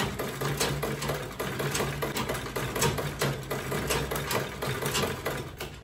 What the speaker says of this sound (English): So I'm going to stitch on this with that dark brown thread.